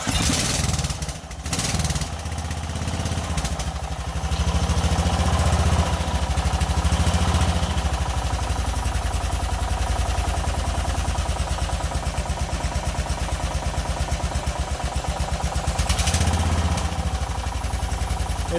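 A repaired mud mower engine runs loudly and close by, a steady rough throbbing idle with a brief dip and stumble near the start, holding even for the rest of the stretch.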